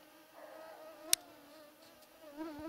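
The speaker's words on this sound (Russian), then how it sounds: "у меня опять комары прилетели, новая партия" Mosquitoes whine with a thin, continuous buzz during a roe deer hunt in a forest, faint and steady, with a single sharp click partway through.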